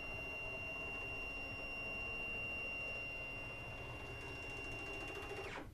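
A Stepcraft CNC machine drives along its axes toward the center, giving a steady motor whine and hum that runs unbroken for several seconds and then stops abruptly near the end.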